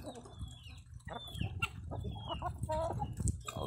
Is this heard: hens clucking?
yes